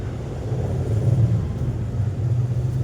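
An auto rickshaw engine runs at a steady idle, a close, loud, low rumble with a constant drone and no voices.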